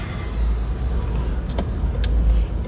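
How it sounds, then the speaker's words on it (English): Congested night traffic around Dupont Circle, a constant low rumble of idling and creeping cars with a couple of sharp brief clicks or squeaks partway through, steady and fairly loud, no speech. "We got a lot of congestion of traffic"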